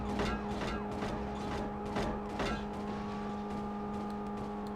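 A police car engine drones steadily in the PS1 game World's Scariest Police Chases, a sustained tonal hum with a few sharp impacts early on, moderately quiet and with no talking.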